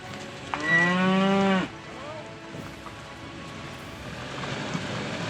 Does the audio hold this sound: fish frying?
no